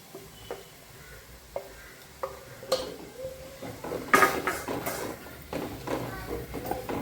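Ground spice paste goes into a sizzling pan for a Bhogi mixed vegetable dish and is stirred in, with sharp spoon taps on the pan, then a louder burst of frying and repeated scraping.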